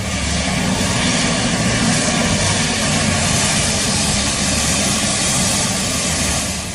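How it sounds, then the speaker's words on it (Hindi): A MiG-29K jet fighter takes off from the deck of the aircraft carrier INS Vikramaditya, a loud, steady, broadband engine roar filling the whole stretch without a break. "जब आईएनएस विक्रमादित्य के डेक से MiG-29K टेक ऑफ करता है"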